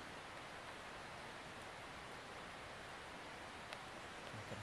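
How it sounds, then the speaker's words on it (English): A rain-swollen stream rushes outside a tent after a night of heavy rain, heard as a faint, steady, even hiss of flowing water with no breaks or voices. "Hear that stream, it's a lot louder than it was"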